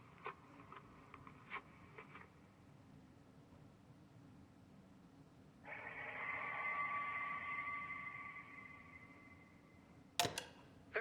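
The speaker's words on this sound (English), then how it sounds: "That was a phone ringing underwater." A phone rings underwater in the game Kentucky Route Zero, heard as a faint, muffled, warbling tone that holds for a few seconds amid quiet background hiss, with a few small clicks before it and a sharp click after.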